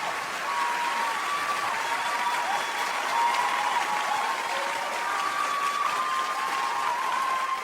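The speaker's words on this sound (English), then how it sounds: "And the crowd cheered." A crowd cheers and applauds, a dense, steady wash of clapping and voices that stays loud and even throughout with no pauses.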